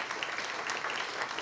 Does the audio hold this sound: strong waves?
no